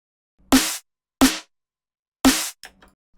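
Three sharp, bright snare hits from a drum and bass production ring out one by one with short gaps, each snapping in with bite and decaying quickly, followed by a faint trailing tap.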